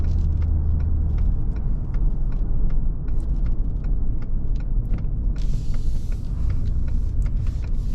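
A 2019 Ford Expedition Limited 4X4 cruises toward a freeway on-ramp. Its engine and road noise make a steady, loud rumble throughout, and faint rattly ticks come through in the background.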